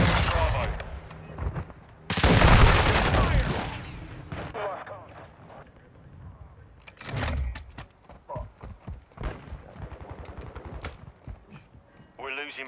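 Gunfire in Call of Duty: Modern Warfare II, a dense loud burst of automatic fire followed by scattered shots and impacts, with radio-style voices talking over the combat.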